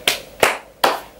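Three sharp hand claps, close and loud, spaced evenly about a third of a second apart with no other sound around them.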